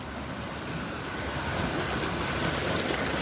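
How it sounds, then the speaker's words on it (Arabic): Sea waves surge against a rocky shore in a steady, broad wash of surf, with wind noise mixed in throughout and no voices. "دابا البحر بدا كيطلع. شوف بدا كيتحرك."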